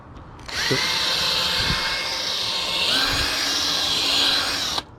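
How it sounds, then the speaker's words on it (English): A power drill whirs loudly and steadily for several seconds, its pitch dipping briefly as the bit bites into soft pine wood, then it stops abruptly. "And I put my starter drill holes here."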